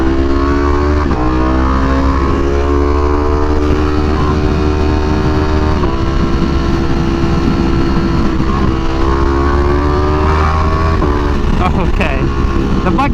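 A tuned Ducati V4R motorcycle engine drones loudly and steadily while being ridden, its layered harmonics holding a constant pitch with slight rises and dips throughout.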